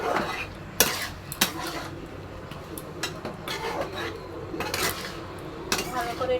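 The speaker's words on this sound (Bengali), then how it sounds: "ভালো করে এটা নাড়াতে হবে।" Utensil scraping and clinking against a pan while chilli-spiced food is stirred, with a few sharp metallic knocks standing out over steady close scraping and no talk.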